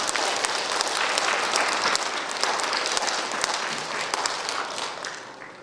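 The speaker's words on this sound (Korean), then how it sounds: "감사의 박수 한번 부탁드립니다" A room full of people at the Nogeun-ri Peace Prize award ceremony applauds warmly, steady clapping that gradually thins out and fades toward the end.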